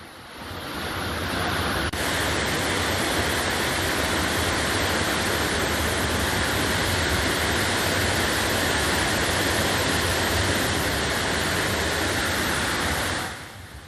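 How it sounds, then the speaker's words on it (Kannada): Sirimane waterfall in Karnataka's Sringeri area, swollen by monsoon rain, roars as a dense, unbroken wash of falling water that swells in, holds loud and steady for most of its length, then cuts off. "ಸಿರಿಮೆನೆ ಜಲಪಾತದಲ್ಲೂ ಕೂಡ ಜಲವೈಭವ ಸೃಷ್ಟಿಯಾಗಿದೆ. ಇನ್ನು ಅಪಾಯದ ಮಟ್ಟ ಮೀರಿ ಜಲಪಾತ ಧುಮ್ಮಿಕ್ತಾ ಇದೆ."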